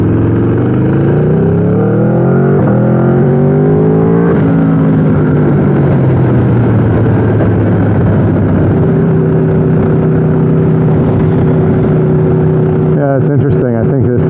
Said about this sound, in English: you could hear the quick shift and the kind of the overrun there.